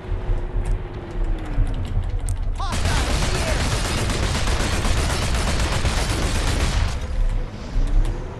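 Anti-air gunfire in the game Planetside 2, a dense, sustained burst of rapid automatic shots that runs for about four seconds, loud and close, with voices faintly present around it.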